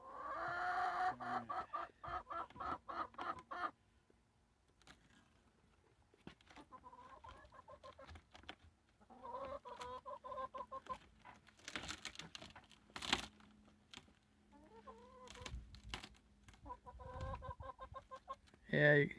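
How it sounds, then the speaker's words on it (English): Chickens brought down from Washington cluck and murmur in short, scattered bursts around a backyard coop, fairly close and soft, with rustling and a few light knocks between calls. "really nice chickens too"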